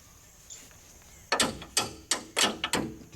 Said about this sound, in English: Now I'm going to give it a push and a tap at the same time